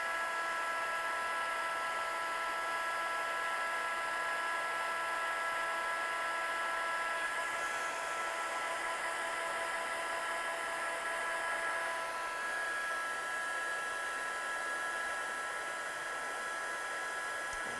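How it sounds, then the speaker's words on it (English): A heat gun blows steadily while setting clear and black embossing powder on a card, a continuous loud whirring hiss held without pause for the whole stretch, with no voices. "So let's heat set this one with our gun."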